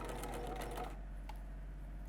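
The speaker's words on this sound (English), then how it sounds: "We're going to start by back stitching" A sewing machine makes a short, faint burst of back stitching on skirt fabric that lasts under a second, then leaves only a low steady hum.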